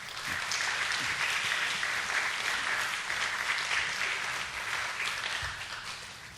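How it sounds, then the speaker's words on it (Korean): Congregation in a Korean church applauding to welcome a missionary speaker to the front, a dense, sustained wash of clapping from a large group, steady and even before tapering slightly at the end. "박수로 모시겠습니다."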